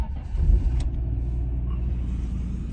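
A turbocharged Honda NSX rumbles on a cold morning, with a low, steady engine drone and a brief bump as it fires, loud and close throughout.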